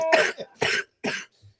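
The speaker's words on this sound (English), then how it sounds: "Go ahead, cough" A person coughs three times in quick, loud bursts that sit close to the listener, with short pauses between them and a fourth cough cut off at the end.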